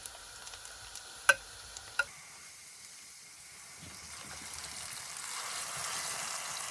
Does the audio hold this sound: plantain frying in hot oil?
yes